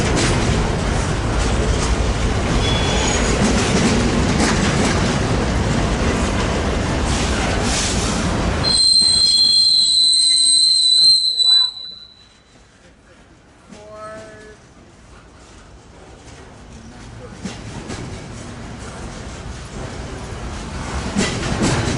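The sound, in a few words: eastbound port stacker freight train passing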